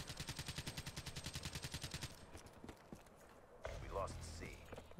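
Rapid automatic gunfire in Black Ops 3 on the Rise map, an even burst of evenly spaced shots for about two seconds, then scattered sounds of game action with someone talking over it.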